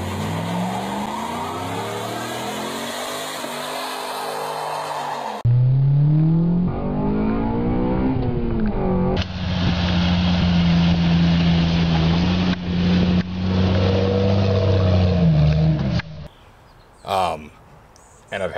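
A 5th-gen Toyota TRD 4Runner fitted with a Borla S-Type cat-back exhaust revs up and idles, rising and falling engine tones with steady rumbling stretches, someone talking over parts of it.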